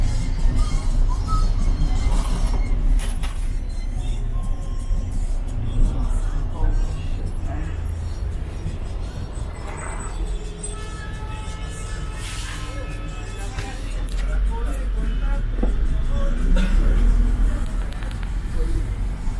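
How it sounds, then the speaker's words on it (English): A city bus in Santa Marta, Colombia, pulls up and drives on, its engine rumbling low and steady amid street traffic, with passengers and bystanders talking over the noise. "So my bus finally came."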